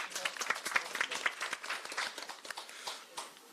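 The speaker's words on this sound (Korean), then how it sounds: "다 같이 박수 부탁드리겠습니다" Scattered applause from attendees at a site roundtable meeting on supported housing for young people leaving care, with sparse, fairly faint claps rising and falling throughout.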